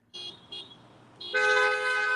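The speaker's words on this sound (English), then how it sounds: "You can still hear the honks and everything." Two short car horn toots, then a longer sustained blast, loud and nearby, with no speech, from a political car caravan.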